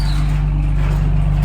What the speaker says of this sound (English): Thankfully, the car's not that loud yet, so it's not a huge deal.